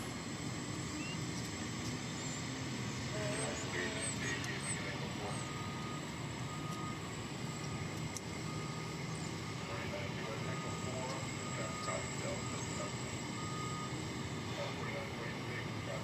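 A CRJ 701ER regional jet arriving from Killeen, Texas, at DFW Airport, its engines a steady, continuous roar at moderate distance, mixed with airport ground noise and faint people talking in the background.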